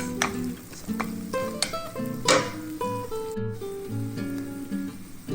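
Celery stir-fried and tossed in a hot pan, a soft sizzle with stirring scrapes running steadily under louder tonal background music.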